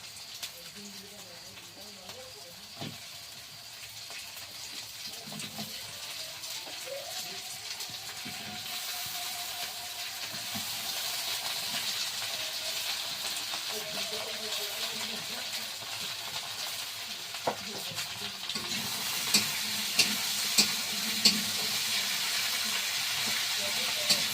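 Okra and potatoes going into a pan of onion and garlic already fried down: a continuous hissing sizzle that slowly builds, with occasional clinks and a voice talking in the background.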